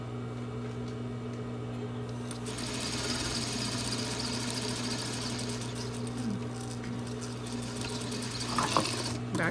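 A sewing machine runs steadily as it stitches a continuous bound placket along a quarter-inch seam, a close, constant motor whir that speeds up slightly near the end.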